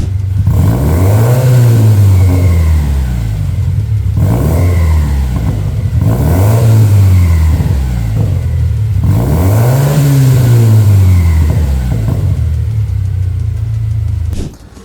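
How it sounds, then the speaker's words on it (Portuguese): A car engine with a modified exhaust revs repeatedly in four or five swelling pulses, each rising and falling, with a deep rumbling exhaust and occasional popping crackles between revs. "você dá uma acelerada e às vezes você vai escutar uns estalos."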